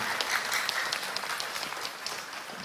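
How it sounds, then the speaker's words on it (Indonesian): Dense, steady audience applause during an Indonesian religious talk show, a continuous wash of many hands clapping at moderate loudness with no pauses. "tepuk tangan"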